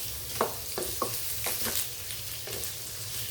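Radish sautéing in oil in a pan for curry, a close steady sizzle broken by several short scraping strokes of a spatula, no talking.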